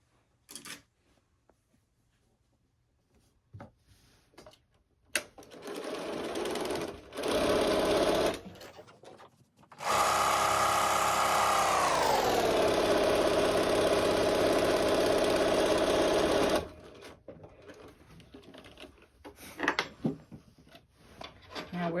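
A sewing machine stitches a lunch bag seam in a short run, then a long steady whirring stretch that slows in pitch near its end, close and loud, with handling noises before and after.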